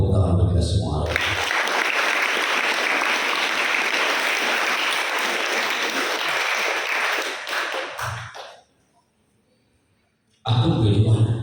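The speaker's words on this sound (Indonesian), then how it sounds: "Tepuk tangan untuk kita semua." A student seminar audience at a school dormitory in Metro, Lampung, breaks into dense, sustained applause for about seven seconds before it fades. Silence follows, then a voice speaks at the start and end.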